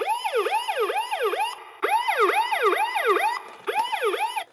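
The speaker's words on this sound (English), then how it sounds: "You get the sirens, hit this button over here." Electronic siren from a 2015 Hess toy fire truck, a wailing up-and-down tone repeating in quick sweeps, loud and close, played in three bursts with brief gaps and no talking.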